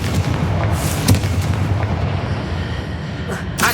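A Confringo fire spell bursts in the Hogwarts Legacy video game, a loud booming blast with a rumbling roar that rolls on, a sharp thump near the middle and another burst at the end.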